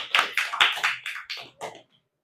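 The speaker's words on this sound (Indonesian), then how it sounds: "Berikan tepuk tangan untuk Kolbi" A small group in a classroom gives a short round of clapping for a student: about seven distinct, fairly close claps in an uneven rhythm that fades out after roughly two seconds.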